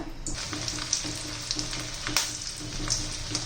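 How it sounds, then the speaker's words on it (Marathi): Potato roll samosas frying in hot oil over a low flame, a steady crackling sizzle with faint bubbling that runs throughout, close and alone with no talk. "हे पहा तेल गरम झालेलं आहे तर सोडून घेतलेलं आहे आणि मंद गॅसवर सगळं आपल्याला तळायचं आहे"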